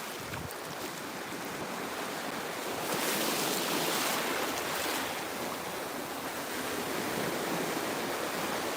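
Steady surf washing ashore at Siesta Key Beach on the Gulf of Mexico, a continuous broadband roar with wind buffeting the microphone, swelling slightly louder midway and holding without any voices.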